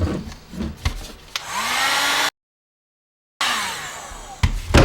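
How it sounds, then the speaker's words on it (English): A heat gun blows hot air onto hot tub plumbing couplings, a steady loud whooshing roar that runs for about a second, cuts out, then starts again, with a few clunks and taps around it. "So again, we're going to use the heat gun."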